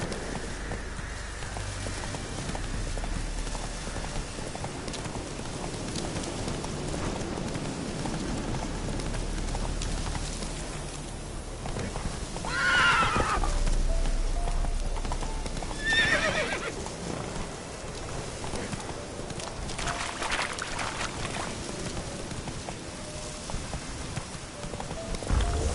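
A horse in The Witcher 3 gallops with steady hoofbeats and neighs a couple of times over a rainy outdoor hiss, sounding close, with no speech.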